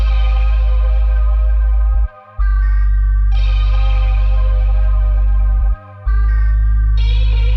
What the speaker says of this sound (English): the bass is gonna get a lot more distorted as it kind of moves on